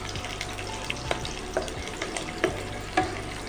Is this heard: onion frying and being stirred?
yes